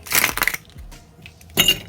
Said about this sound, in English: So I'm gonna put some ice cube in my glass